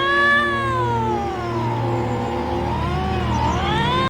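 A voice imitating a cat's meow, the ghost boy Toshio in a Ju-on horror film, a long wavering harmonic cry that rises, dips and rises again over a low steady film-score drone for about four seconds.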